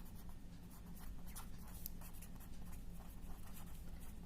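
Chalk or a marker writes on a board in a maths classroom, a faint rapid scratching in short strokes over quiet room hum.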